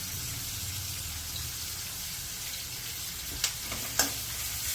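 Onions sautéing in a pan for onion chutney, salted early, give a steady close frying hiss with a couple of sharp stirring taps near the end and no voices.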